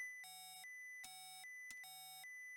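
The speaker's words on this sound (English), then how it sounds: "it looks like that procced a master alarm" A master alarm sounds in an Apollo spacecraft simulator game as a harsh electronic tone blaring in three repeated bursts with short gaps, steady and fairly quiet, with no talking over it.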